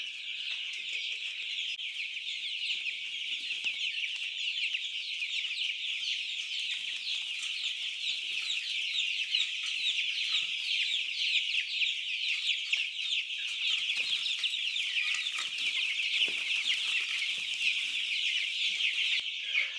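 Chickens in a brooder keep up a dense, continuous chorus of overlapping clucks and chirps, steady and moderately loud throughout with no one speaking.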